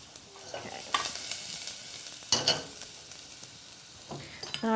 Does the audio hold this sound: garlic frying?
yes